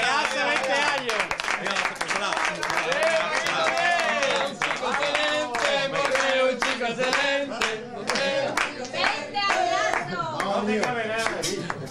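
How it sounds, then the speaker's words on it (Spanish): Lively clapping from an audience at a festive stage show, heard mixed under loud music and voices that carry on throughout. "¡Un aplauso al Paquito!"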